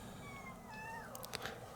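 A cat meows indoors during a cassette deck repair: a single drawn-out, wavering cry with gliding pitch, moderately faint over steady room noise.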